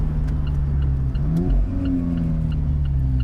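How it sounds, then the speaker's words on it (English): An Alfa Romeo 4C Spider engine blips on a downshift while driving, a steady mid-pitched drone that rises in a quick rev near the middle before settling, heard close without talk. "Just that lovely little blip as you drive, as you blip down the gearbox."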